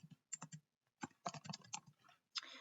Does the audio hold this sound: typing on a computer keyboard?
yes